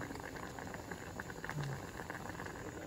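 Food boiling in a pot, a steady close bubbling and gurgling with a light hiss that continues evenly throughout.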